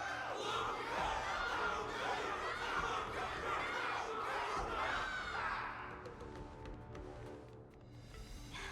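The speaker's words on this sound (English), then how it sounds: "Everyone's cheering for you," A crowd in the video game Honkai: Star Rail roars and cheers in a loud, dense wall of voices that fades after several seconds into a quieter, sparser tail.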